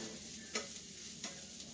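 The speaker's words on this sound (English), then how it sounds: "Onions and garlic frying in anything smells amazing." Onions and garlic sizzle continuously in a pan with a soft frying hiss, broken by a few brief scraping stirs.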